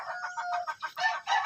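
Gamecocks clucking during training, a quick, repeated series of short calls, close by and fairly loud, with no talking.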